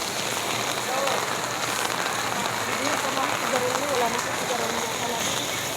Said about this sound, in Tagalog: Ang lakas ng ulan eh.